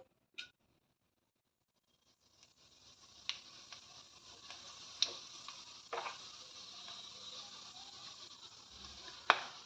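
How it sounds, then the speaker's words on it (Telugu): Cinnamon, star anise and cloves hit hot oil with a faint, steady sizzle that builds after a quiet start, broken by a few sharp pops and crackles. "ఇక్కడ వచ్చేసి చెక్క, స్టార్ అనస, లవంగాలు వేస్తున్నానండి."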